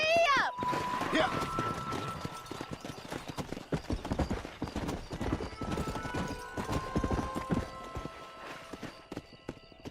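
Horse galloping in the Red Dead Redemption video game, a fast steady clip-clop of hooves close up with a brief whinny at the start and voices talking over the ride.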